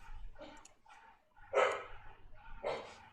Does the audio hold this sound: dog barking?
yes